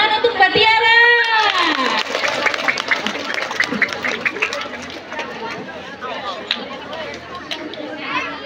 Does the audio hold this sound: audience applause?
yes